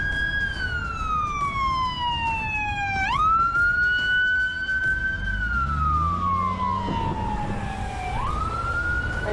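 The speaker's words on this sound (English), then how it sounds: "Oh, yeah, our ambulance is coming." A loud wailing ambulance siren in Las Vegas sweeps up and down in long cycles as it passes close by, with road rumble rising beneath it.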